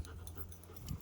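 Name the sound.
dog panting during dog training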